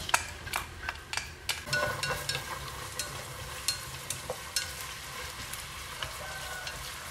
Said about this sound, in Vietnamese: Hành đã sôi mạnh rồi